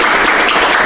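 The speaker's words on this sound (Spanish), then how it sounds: "aquí José, María y Jesús merecen un aplauso de nosotros" Brief burst of loud, close applause from a church congregation during a Bible reading session, dense overlapping claps filling the whole short moment with no speech.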